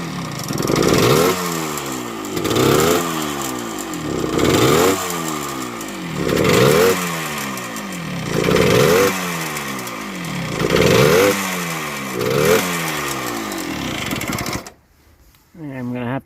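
A 1978 Yamaha DT100 two-stroke motorcycle engine with a carb still needing adjustment and an exhaust leak runs in a backyard, revving up and down in steady repeated surges, loud and close, then cutting out near the end.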